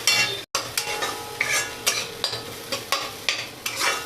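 Cumin powder, garam masala and coriander powder are stirred in a pan for an Assamese fish head curry, about ten rhythmic, close spatula scrapes over a light sizzle.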